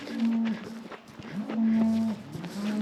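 A big bull bellows in a pasture while being turned out, several long, loud moos repeating close by with brief pauses between them and some background rustle.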